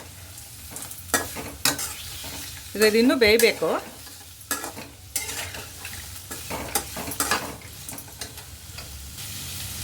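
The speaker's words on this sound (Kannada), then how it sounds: "ಈಗ ಅದನ್ನ ಒಗ್ಗರಣೆ ಜೊತೆ ಮಿಕ್ಸ್ ಮಾಡ್ಕೊಳ್ಳೋಣ ಹೀಗೆ" Long-cut capsicum is stirred into hot tempering oil in a pan over medium flame, with a constant sizzle and repeated close scraping strokes, and a voice speaks briefly partway through.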